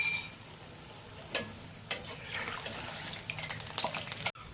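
Semolina gulgule fry in very hot oil with a soft, steady sizzle, broken by a couple of sharp clinks and light stirring near the end.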